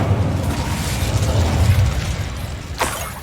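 Incendio fire spell cast in the video game Hogwarts Legacy, a loud rumbling whoosh of flame with a booming burst, ending in a sharp rising flare.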